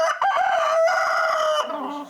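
A rooster crows once, close and loud, a full drawn-out cock-a-doodle-doo call that fills the moment with no talk around it.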